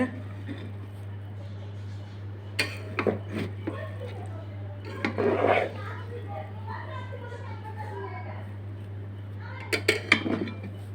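A spoon scrapes and knocks against a pot of chicken biryani in a few short bursts of clatter, over a steady low hum, while people talk nearby.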